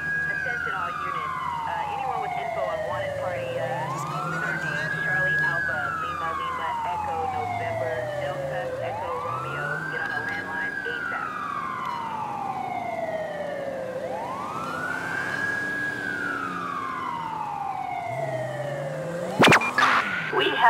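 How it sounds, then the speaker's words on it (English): A police siren in the video game GTA 5 with the LSPDFR mod wails steadily in slow rising and falling sweeps, about four full cycles, over a low engine drone, ending with a brief sharp burst of noise. "I don't know what that siren is going on."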